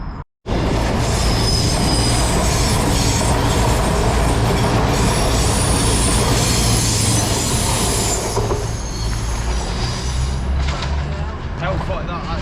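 A Voyager train at the National Rail platform of Manors station, rumbling loudly with squealing wheels and metallic clatter as it moves through, continuous and close.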